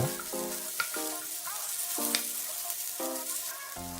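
Garlic and imitation crab sticks stir-fry in hot oil in a pan, giving a steady close sizzle throughout with tonal background sounds layered over it.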